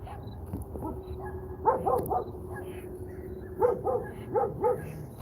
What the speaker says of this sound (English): I'm sure you can hear the dogs barking.